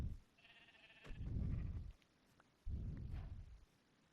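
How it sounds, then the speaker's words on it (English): A brown sheep bleats twice in the video game Minecraft, two soft, wavering calls separated by a short pause over quiet game ambience. "There's a sheep."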